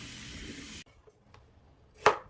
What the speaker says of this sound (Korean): 5kg은 생강 가루를 만들 거라 납작납작하게 썰어줍니다